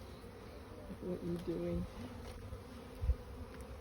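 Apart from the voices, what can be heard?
honeybees buzzing at an opened hive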